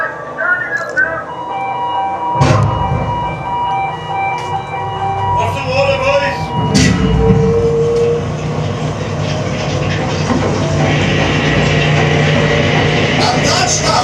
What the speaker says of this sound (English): and that machine there, the one with the giant drum, see? That's it. It's called the shearer.